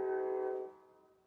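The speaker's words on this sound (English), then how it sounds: "Oh, here comes the train." A train sounds a horn nearby, a sustained harmonic tone that holds steady and then fades out over about a second. No voices are present.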